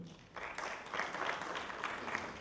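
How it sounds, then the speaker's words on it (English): Audience clapping at a summit gathering: a steady, fairly quiet patter of many hands that starts after a brief pause and continues evenly to the end. "Can you clap for them?"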